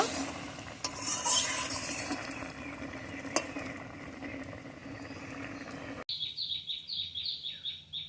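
Quail eggs with olives and green chillies cooking in a pan, with a soft steady sizzle and faint stirring scrapes and a couple of sharp clicks, then a quieter stretch of chirping at the end, with no talking.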